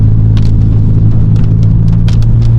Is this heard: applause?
no